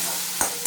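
Spice masala frying and being stirred in a pan for a Bengali dhoka (lentil cake) dish, a steady close sizzle with two brief scraping stir strokes near the end.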